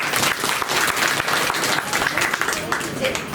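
An audience at a Tamil drama actors' association annual stage event in Pudukkottai claps loudly and continuously, dense applause filling the whole moment.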